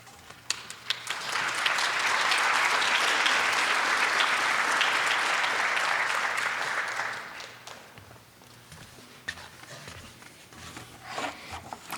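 A symposium audience breaks into warm applause as Cullen Washington is welcomed to the stage; steady, dense clapping swells quickly, holds for several seconds, then dies away into scattered claps and quiet room noise.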